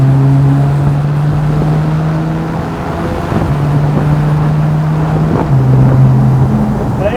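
Heavy wind buffeting roars through an open-top Porsche with the wind deflector lowered, a loud steady rush with a low engine drone underneath while driving.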